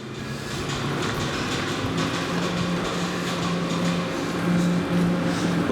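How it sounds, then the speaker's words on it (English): Millennium Force roller coaster train at Cedar Point rumbling past overhead, a loud steady roar with faint rhythmic clatter that swells near the end. "Millennium Force is on 3 trains, so it's quite frequently going to be going up over our heads"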